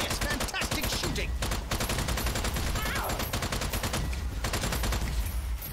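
Rapid gunfire from the video game Strange Brigade, dense repeated shots cracking continuously throughout amid busy game effects, with a voice faintly present.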